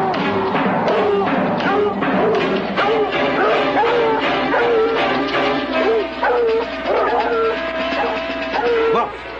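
Several dogs bark and yip in quick repeated bursts, loud and close, with whimpers and thumps mixed in among the barking.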